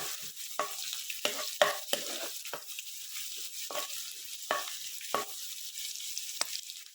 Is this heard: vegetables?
yes